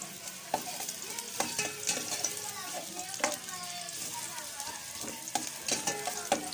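Ginger fries in a pan with a steady close sizzle, while a utensil scrapes and knocks against the metal in occasional sharp taps as it is stirred.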